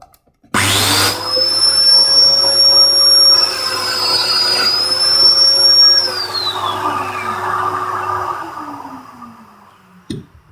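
Domino cutter joiner starting up and running at a steady, loud high-pitched whine for about eight seconds, with a faint cutting load midway, then spinning down; a single knock follows near the end.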